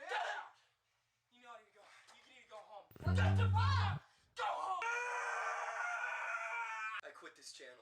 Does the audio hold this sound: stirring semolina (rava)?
no